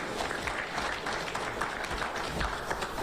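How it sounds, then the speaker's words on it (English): Audience applause at a youth political party campaign event, steady dense clapping throughout, loud and continuous with a faint murmur of crowd noise. "let's clap for him once again"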